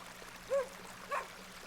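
Two short, faint barks from a dog in the point-and-click adventure game The Excavation of Hob's Barrow, spaced about half a second apart over quiet ambience.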